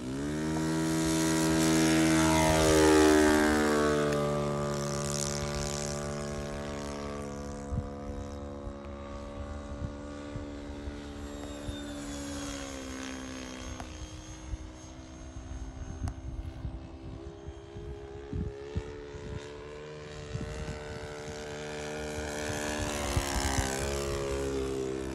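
RC Bucker Jungmann biplane with a Saito 1.20 four-stroke engine taking off in a backyard setting, its engine drone rising and swelling nearby, then shifting pitch as it climbs away and passes back overhead, with no talking.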